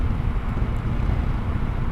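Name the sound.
wind buffeting on 2025 Yamaha Tracer 9 GT at 75 mph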